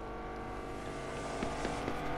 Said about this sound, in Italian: Una macchina che sta arrivando come se non ci fosse un domani.